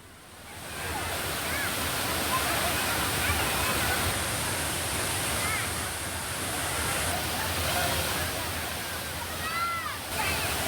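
Thirparappu waterfall pours with a loud, continuous roar of falling water, broad and steady, while faint distant voices of holiday crowds drift underneath.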